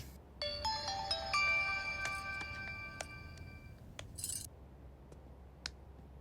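A mobile phone ringtone chimes in a bright melodic pattern for a few seconds while a call is placed, then fades out and leaves a few faint clicks and taps over quiet room noise.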